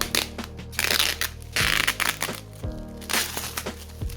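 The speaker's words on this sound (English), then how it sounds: "I received this in this beautiful packaging, this bubble wrap here. Let's go ahead and unwrap it first." Bubble wrap packaging around a Samsung Gear Fit 2 Pro is pulled open and unwrapped close up, giving irregular bursts of crinkling, crackling plastic with short pauses between handfuls and no talk.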